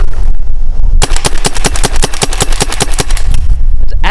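A Rap4 T68 SplitFire dual-feed paintball gun fires a rapid string of about twenty sharp, evenly spaced pops at a tree outdoors, loud and close, with brief quiet before and after.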